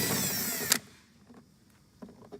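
A power tool with a 7mm socket removes a bolt during SRS airbag module removal on a Chevy Colorado: a close, loud whirring burst that cuts off abruptly, then faint clicks and handling noises.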